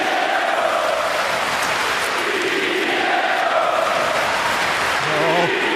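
Hockey arena crowd at a 2019 World Junior Championship quarter-final between Canada and Finland, cheering the goaltender in a sustained, diffuse roar with a faint voice rising near the end.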